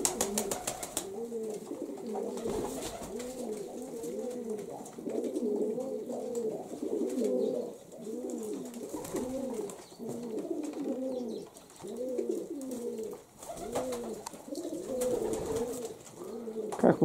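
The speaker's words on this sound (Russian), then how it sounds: "Вот голос какой, воркование." Pigeons coo at a dovecote in repeated soft, rolling calls, several birds close by in a steady rhythm of overlapping coos over a quiet background.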